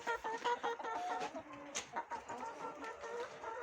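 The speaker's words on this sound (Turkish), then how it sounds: "Buradan tavuklarımdan başlayarak tekrar kümesimi göstereyim bugünkü." Chickens cluck repeatedly at close range inside a coop, several birds overlapping in short, busy bursts with one brief louder squawk.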